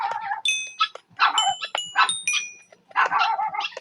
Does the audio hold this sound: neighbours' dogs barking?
yes